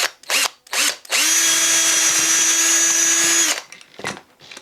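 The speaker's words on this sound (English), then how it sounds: "to drill the two holes as far apart as reasonable. Just want to make sure I go through both pieces of wood." A power drill bores the 1/8-inch eye holes through two pieces of wood for a replica Heddon Torpedo fishing lure: two short revving bursts, then one loud, steady, high-pitched whine lasting over two seconds before it winds down.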